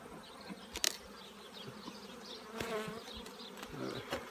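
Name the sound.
honey bees buzzing at an opened beehive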